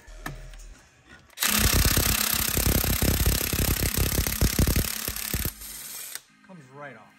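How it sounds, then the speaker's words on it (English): A heavy-duty 600 foot-pound impact gun spins off a 24 mm bolt on a C5 Corvette in one loud, rapid rattling burst lasting about four seconds, with quiet moments before and after and a faint voice at the end. "And if you have an impact gun, that was 10 seconds."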